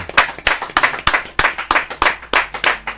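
A crowd of listeners clapping in an uneven rhythmic pattern, loud and close, with a single pair of hands standing out in steady repeated beats over the wider applause.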